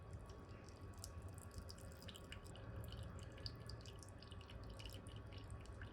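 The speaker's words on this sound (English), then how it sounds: "You can just dispense the remaining water in the chamber." Leftover water trickling and dripping out of the chamber of a Flair 58 manual espresso machine after a shot, a steady faint splatter with no talk.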